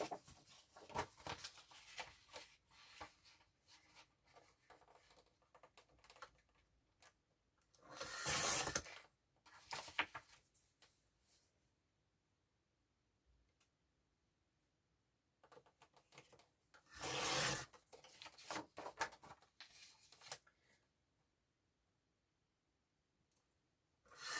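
Scissors cut out a paper journal card, quiet irregular snipping and paper rustle with two louder bursts of crinkling handling, faint overall with near-silent gaps.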